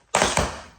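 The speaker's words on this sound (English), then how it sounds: "as soon as you hit that heel, you should drop this heel." Two quick percussive strikes from a tap-style dance step, a heel drop followed closely by a second heel hit on a hard floor. They are sharp, close and loud, ringing briefly before fading, with no voices over them.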